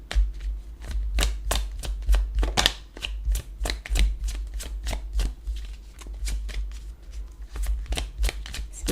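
Tarot-style cards being shuffled by hand, a continuous run of quick riffling flicks and slaps in an irregular rhythm, close and fairly loud, with no voices.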